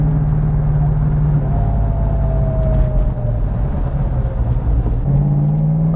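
Loud, steady idle rumble of a 1970 Plymouth Hemi Cuda clone's Hemi V8 with a shaker scoop, close by, with a slight rise in revs midway and no voices.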